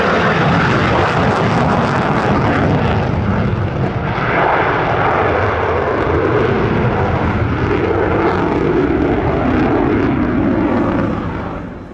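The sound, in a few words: F-35 fighter jet flying an airshow display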